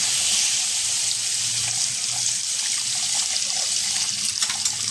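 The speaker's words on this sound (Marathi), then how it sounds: "त्याच्यानंतर आपण आता ह्याच्यामध्ये पाणी घालायचं." Water poured into a pan of salted fish pieces, a continuous splashing, hissing pour that stays steady throughout, close up with no talk.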